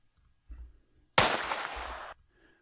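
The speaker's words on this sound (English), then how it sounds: "he spent 5 minutes on getting this gunshot sound" A gunshot sound effect in a rock song mix: one sharp, loud broadband blast with about a second of decaying tail, heard alone after a couple of faint low thumps.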